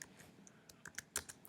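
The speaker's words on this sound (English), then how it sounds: "I can start typing in" Quiet, irregular clicking of keys being typed on a computer keyboard, a short burst of taps at close range.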